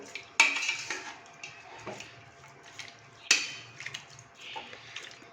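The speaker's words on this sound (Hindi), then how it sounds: "पानी डालने के बाद थोड़ा मिक्स करेंगे इसको।" A spoon mixes beef boti with spices, onion and water in a pot, giving two sharp metallic clanks against the pot, each followed by softer scraping and wet stirring sounds.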